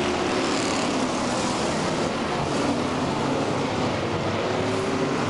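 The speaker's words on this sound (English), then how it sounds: "they're all racing side by side, putting on a great show, just like everyone else here is at Canaan" Race cars at Canaan speedway make a continuous loud engine roar, the buzzing drone of several cars running together, constant from start to finish with no talk.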